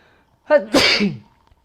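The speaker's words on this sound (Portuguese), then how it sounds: "Eu vou espirrar." A woman sneezes once, sharp and close, after a short voiced intake of breath, in an otherwise quiet room.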